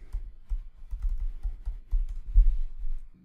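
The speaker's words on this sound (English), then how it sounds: "I'm gonna come up to my drop-down menu and I'm gonna type in Ettercap." Quick, light keystrokes on a computer keyboard patter in an uneven run of soft close clicks, with no talk over them.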